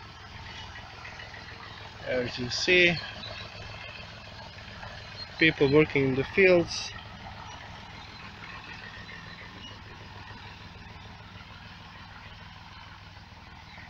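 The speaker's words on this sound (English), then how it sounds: "There's a tractor behind me on the road coming." A low, steady tractor engine drone on a road nearby hums throughout while a person speaks briefly in two short bursts.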